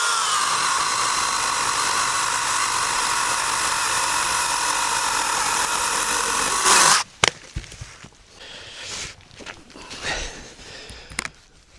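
A cordless saw whines steadily as it cuts through a branch of an old, decaying tree, then cuts off abruptly, leaving scattered wooden knocks and snaps in quieter surroundings.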